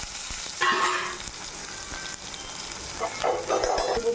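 Onion and green chili frying in hot oil for a South Indian tempering with mustard seeds, cumin and chana dal, a steady close sizzle with two louder crackling surges as ingredients hit the pan.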